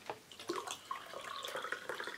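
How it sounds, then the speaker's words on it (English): Carbonated water poured into a glass with a little fruit juice, making a homemade breakfast lemonade; a steady, close fizzing pour runs for about two seconds without any talking. "And then some water, carbonized."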